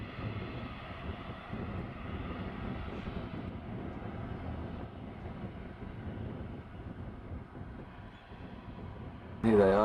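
A floatplane's engine drones steadily as it taxis on the water near downtown Sitka, Alaska, a low continuous rumble with wind noise, then a brief louder burst at the very end.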